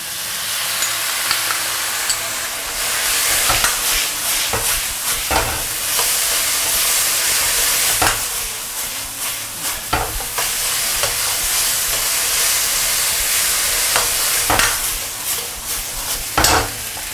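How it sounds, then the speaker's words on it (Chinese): Eggs and a mixed sauce hit a hot wok in a home kitchen, setting off a steady loud sizzle with scraping stir strokes and clanks of the spatula throughout, no voices. "下入鸡蛋以及之前调的料汁儿"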